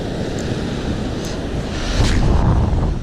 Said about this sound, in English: Unfortunately, the wind just would not let up like it was meant to